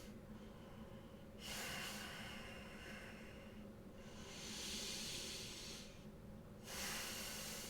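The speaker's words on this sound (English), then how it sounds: "we go for 2 deep breaths through the nose" Two slow, deep breaths drawn in through the nose during yoga practice, each a long airy hiss lasting a couple of seconds, close and quiet, separated by a soft pause.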